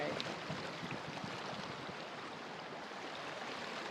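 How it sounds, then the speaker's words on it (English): A river in Cherokee flows in a steady broadband rush, close and continuous throughout, with no talk over it. "All right, so look at that river."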